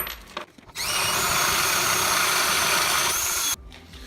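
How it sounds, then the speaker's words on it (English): A power drill whirs loudly for about three seconds, a steady high-pitched grinding as it bores through thin white metal, then stops abruptly. "this hole is not big enough, so I'm just going to drill that out quickly"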